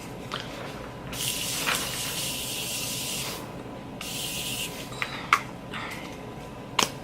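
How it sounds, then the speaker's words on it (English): A setting spray hisses steadily onto a face in a long, continuous mist lasting a couple of seconds, then a second shorter burst follows, with small clicks and handling noises around it in a quiet room. "So let me spray. I love this spray."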